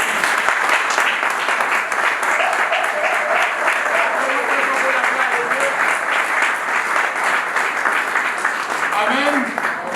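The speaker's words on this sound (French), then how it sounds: "On acclame très fort pour la gloire de Dieu." A church congregation claps loudly and continuously in dense sustained applause, with voices cheering and calling out over it.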